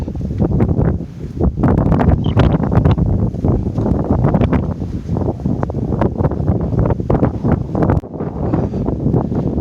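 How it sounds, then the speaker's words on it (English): Strong wind buffets the microphone in loud, continuous gusts on a hike on Geomundo island, Korea, roaring and rustling throughout with no clear voices. "It's really windy today, so I hope that the sound actually picks up."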